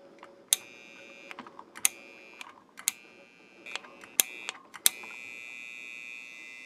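Breville Barista Express 2/3-way solenoid valve energised on a test bench, giving a faint steady electrical buzz with sharp clicks and taps around it, quiet and close.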